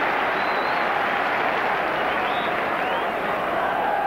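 A large football crowd at a Manchester United versus Liverpool match, a dense, continuous roar of massed voices filling the stadium, steady and loud throughout with no single voice standing out.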